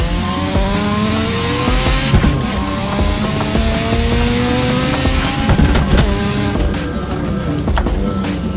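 A Mazda RX-7's 13B rotary engine in the racing game Assetto Corsa revs continuously and loudly, its buzzing, warbling note rising and falling through gear changes, with no talking over it.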